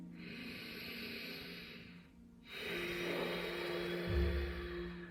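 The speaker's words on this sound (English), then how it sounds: "if I breathe with the Ujjayi breath, it sounds like this" Ujjayi yoga breathing drawn through the nose, a steady hissing breath with a short pause midway before a second long breath, close and fairly quiet over a low background hum.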